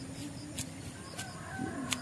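Chickens on a farm clucking softly, with a few short bursts of bird calls over a low murmur of background noise, fairly faint and distant.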